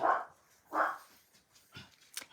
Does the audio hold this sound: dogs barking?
yes